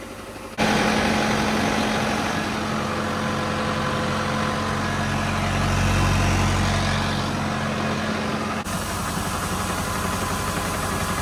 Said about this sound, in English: We're unloading the trucks here into the bin.